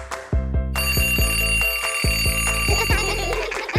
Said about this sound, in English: It's just a clock, but it's really loud.